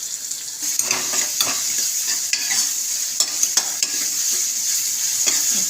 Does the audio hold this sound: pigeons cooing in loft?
no